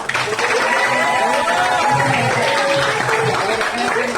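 College audience applauding at a departmental event, steady dense clapping with crowd chatter and voices underneath throughout.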